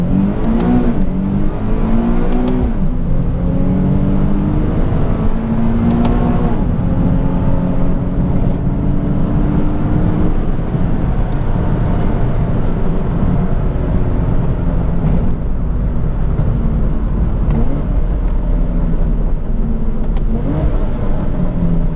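Car engine revving through repeated paddle-shifter downshifts, loud and close, with rising and falling rev sweeps over a rough continuous roar, no talking.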